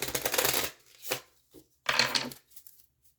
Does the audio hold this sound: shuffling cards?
yes